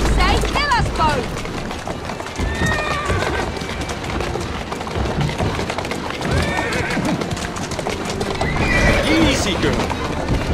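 Horse hooves clip-clopping at a run with several loud neighs and whinnies in Assassin's Creed Syndicate, over a busy game soundtrack with voices talking.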